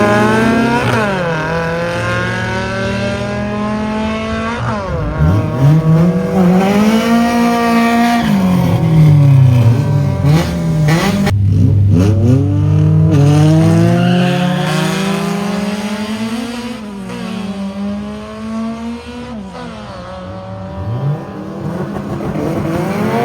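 Cars in a drag race, a Toyota Fortuner against another car, rev and accelerate hard with rising and falling engine tones, repeated gear changes and tire squeal, loud and sustained throughout.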